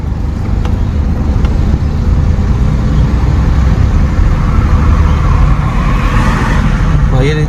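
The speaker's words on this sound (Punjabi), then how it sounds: "ਰੇਸ ਵਧਾਇਓ ਰੇਸ ਵਧਾ ਕੇ ਦੂਜਾ ਗੇਅਰ ਪਾ ਲਿਓ" A car's engine revs up steadily as the learner driver shifts into second gear, a loud, close, continuous drone inside the cabin, with voices talking over it.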